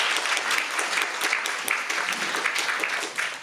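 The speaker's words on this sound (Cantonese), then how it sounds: "掌聲歡迎余博士" A forum audience claps steadily in a dense, even burst of applause throughout, with no voices standing out.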